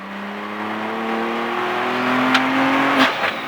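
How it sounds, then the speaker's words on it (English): Turbocharged race car engine on a track, a loud near drone climbing steadily in pitch under acceleration, then a sharp cut with brief pops and hisses as the throttle lifts for braking. "The sound of that turbo is cool, huh?"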